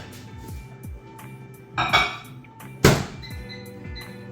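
A couple of clattering knocks as a bowl is set down inside a microwave, with a sharp clunk, amid faint kitchen hum.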